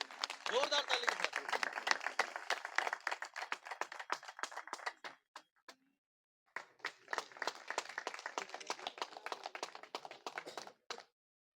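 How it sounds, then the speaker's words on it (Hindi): A crowd clapping in welcome at a national convention of an all-India government drivers' confederation, a loud burst of applause, a short pause, then a second round of clapping. "जो ऑल इंडिया ड्राइवर कन्फेडरेशन के जोरदार तालियों से साथियों स्वागत करें।"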